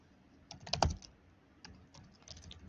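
Typing on a computer keyboard, a few quick bursts of clicking keystrokes close by, with short pauses between clusters of keys.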